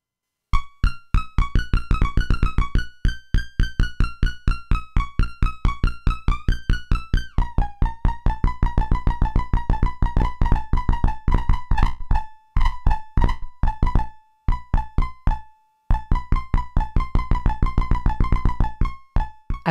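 A Metasonix R54 VCO run through an RK5 low pass gate with a tight percussive envelope plays a fast, steady sequence of short plucked notes, with pitch changes and a few brief gaps, loud and up close.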